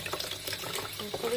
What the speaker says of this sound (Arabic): ومن بعد كتطلقوا الماء وكتبقاو تغسلوا الداخل هكا